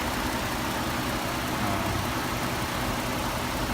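Ford 3.5-liter twin-turbo EcoBoost V6 idling in a 2014 Ford F-150 Lariat 4X4, a steady, close, even engine drone with no breaks and no voices.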